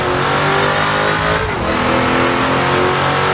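Race car engines roar in the Assetto Corsa video game at the Mont-Tremblant circuit, a loud sustained high revving drone that dips and shifts pitch briefly as a gear changes, then keeps climbing, with no talk.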